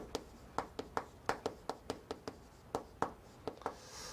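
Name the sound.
writing on a board during a lecture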